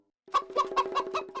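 A cartoon chicken in Motu Patlu clucks in a quick run of about six rhythmic, close, fairly loud clucks after a brief silence.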